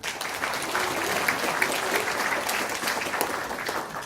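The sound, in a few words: applause for introduced forum guests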